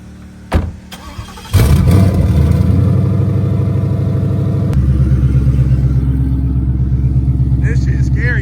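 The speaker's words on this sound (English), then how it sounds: "Fastest car you ever sat in right here." A car engine cranks and catches, then settles into a loud, steady idle with a deeper surge partway through, close up inside the vehicle as people talk.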